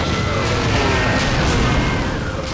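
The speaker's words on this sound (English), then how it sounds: "Now we just gotta wait for the explosion to happen again." Explosion in the Medal of Honor video game: a dense, loud, sustained booming blast with crashing debris texture that fills the entire short stretch without pause.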